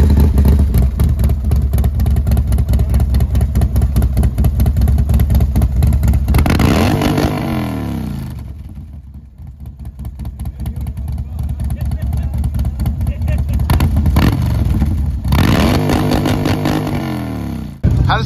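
A Harley motorcycle engine rumbles loud and close, revving up and down in waves, with a brief dip before climbing again.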